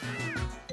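A single short cartoonish cat meow from the video game Klonoa 2, played close and clear over faint game background sound.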